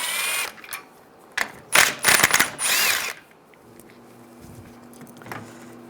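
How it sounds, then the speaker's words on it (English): A hand ratchet with a 12mm socket loosens bolts on a 2011-2018 Ram 1500 during AC condenser replacement, giving several bursts of quick metallic clicking close by with short pauses between them. "Take these two bolts out, use a 12mm socket."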